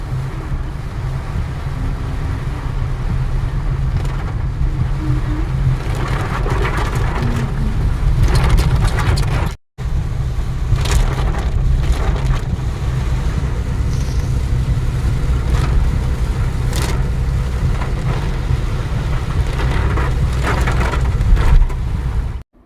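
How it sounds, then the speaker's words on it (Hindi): Heavy rain roars against a moving car, heard from inside as a loud, continuous wash of noise with road rumble, broken by one brief dropout partway through. "आप खाली बारिश की आवाज़ सुनो, कितनी भयानक सी आवाज़ है।"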